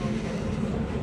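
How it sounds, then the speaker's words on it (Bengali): Inside a moving metro train, a steady dense rumble of wheels and car noise fills the short stretch, loud and continuous with no talk. "তো আমরা মেট্রোতে উঠে গেছি, এখন যাচ্ছি।"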